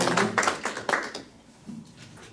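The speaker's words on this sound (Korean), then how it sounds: "발표해 주신 호세 유진 기자님께 한 번 더 큰 박수로 격려해 주십시오." Applause from a conference audience at a Northeast Asia peace conference in Busan, a short burst of clapping that swells over about a second, then thins to a few scattered claps and fades.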